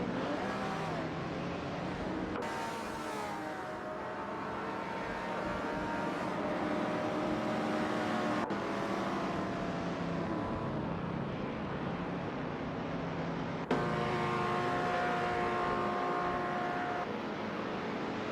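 Supercars racing at Weatherfield Speedway, engine tones rising and falling in long sweeps as cars pass, with abrupt shifts where the sound cuts to another stretch of track, continuous and fairly loud.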